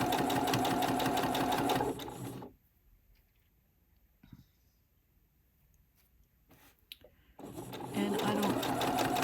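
Sewing machine straight-stitching two vintage fabrics together, a fast mechanical whirring run that stops for several seconds of near silence with faint handling clicks, then starts up again.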